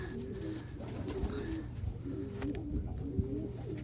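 A domestic pigeon coos in soft, low, repeated phrases, close by and fairly quiet, over a faint steady background hum.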